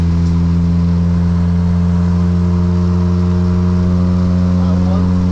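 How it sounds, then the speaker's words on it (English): A Honda Civic Si is driven at night. Its engine drones at a steady, loud pitch from inside the cabin, and voices are partly heard over it. "Don't think they'd like the sound of the Honda Civic."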